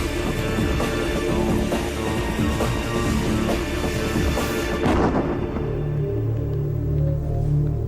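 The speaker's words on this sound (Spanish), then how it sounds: "La antigua mina produce una explosión lo suficientemente grande para causar víctimas" A deep, rumbling blast from a reconstructed ancient Chinese gunpowder mine erupts and rolls on, followed by a lower, fading roar and debris settling for several seconds.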